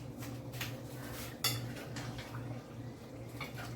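Vegetables being stirred into a pot of Jamaican-style curry turkey and chicken: steady clinking of a utensil against the pot over a low cooking hiss, with one sharper knock partway through.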